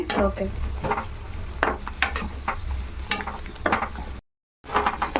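Coconut payasam with sago stirred in a pot as it boils, close scraping and clinking of a spoon against the pot in irregular strokes over a faint bubbling sizzle, with a brief silent gap near the end.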